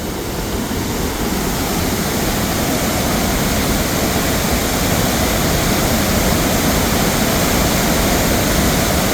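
Heavy water thunders over the Clearwater Lake spillway in Missouri after heavy rain in a constant, dense roar that holds steady throughout, close and loud, without speech.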